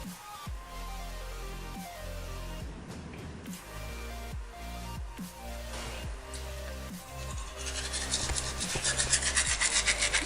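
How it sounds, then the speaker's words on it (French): Someone brushes teeth with a toothbrush, a steady run of close, rhythmic scrubbing strokes that grow louder and harsher toward the end, with no talking. "Allez, lave-toi les dents."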